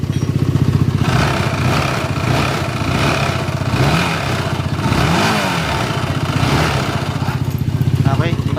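A Honda motorcycle engine runs steadily after an overhaul, with a rhythmic mid-low rumble and some clatter and brief revving near the mic, while people talk over it.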